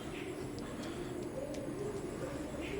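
Imported Teddy pigeons of an Oman bloodline coo softly in low, repeated murmurs against a quiet, steady background hiss.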